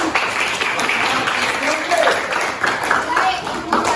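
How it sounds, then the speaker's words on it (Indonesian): A class clapping hands together at the end of a lesson, a brief burst of dense, fairly loud applause running for a few seconds with voices chattering underneath. "Ya, kita tepuk tangan"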